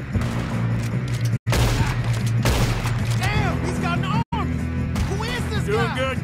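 Gunfire in the Western video game Red Dead Redemption, dense and loud, mixed with music, shouting voices and other game sound, cut by two brief silent gaps.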